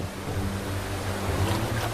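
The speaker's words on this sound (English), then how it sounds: "The gushing waterfall further upstream seems insurmountable." Steady rushing water from a waterfall upstream on a salmon river, a continuous broadband roar with low rumble, constant and fairly close, no voices.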